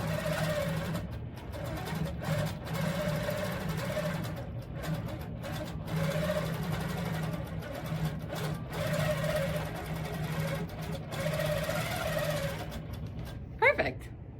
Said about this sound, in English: Hold tight to all of this, do my tack to lock my threads together, turn my channel lock on, and stitch these down